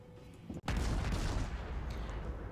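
Naval guns fire in the World of Warships video game aboard the cruiser Yubari: one heavy boom hits hard, then a long dense rumble rolls on, loud and close.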